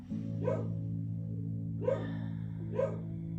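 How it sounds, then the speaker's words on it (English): A dog barks three times, spaced apart and somewhat muffled, as if from another room, over a steady low hum. "And there's Asia barking in the other room"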